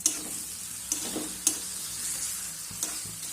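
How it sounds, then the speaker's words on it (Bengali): Ground spices and a little sugar fry in a pan with a splash of water for a cabbage dish: soft, quiet sizzling with a few scraping strokes of a spoon stirring close by. "এবার একটু জল দিয়ে আমি ভালো করে কষিয়ে নেবো সব কিছু"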